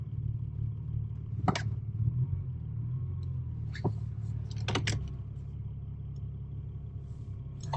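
A 2011 Subaru engine fitted with an aftermarket eBay exhaust rumbles at a steady low idle after a restart, with a few sharp clicks and knocks over the drone.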